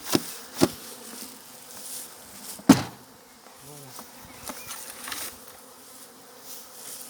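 Honeybees being moved from a nucleus hive into a full hive, a continuous low buzzing hum with scattered sharp knocks and clicks of hive handling throughout, no voices.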